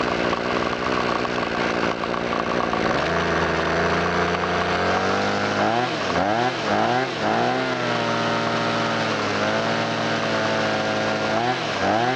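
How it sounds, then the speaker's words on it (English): A small handheld power-equipment engine runs on its last fuel, the note sagging and surging unevenly as it starves, with speech over parts of it. "Essentially running the engine dry of fuel, starving it."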